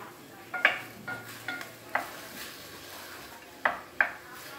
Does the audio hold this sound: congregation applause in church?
no